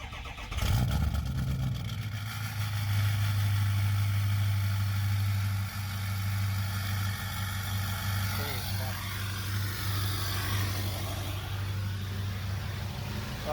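A 2003 Ford F350 with a 6.0 Powerstroke diesel and a 4-inch turbo-back exhaust with no muffler cranks and fires up, then settles into a loud, steady, droning idle as people talk nearby.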